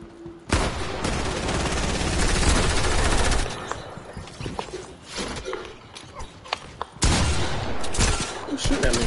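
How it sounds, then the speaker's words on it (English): Fortnite gunfire bursts in rapid, dense volleys, loud and close, with a brief lull midway before another sustained burst, layered over busy game sounds. "Who's shooting at me?"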